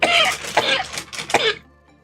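A person coughs several times in quick succession, loud and close, with short harsh bursts and a brief throat-clearing quality, then trails off into quiet.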